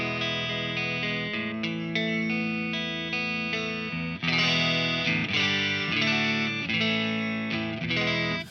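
Electric guitar on the neck pickup through a clean-channel amp simulator with a 4x12 cabinet, playing chords and picked notes with a clean, bright tone and some shimmer, continuous and fairly loud with no voices.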